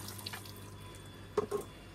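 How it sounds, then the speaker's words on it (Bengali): Rice is washed in water at a sink with a faint, steady wash of water and a few soft splashes and swirls near the end, with no voices. "আম্মু হচ্ছে এইখানে চাল ধুচ্ছে, ভাত বসাবে"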